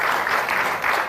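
A TV studio audience breaks into a short burst of steady clapping, fairly close and even, with no talk over it.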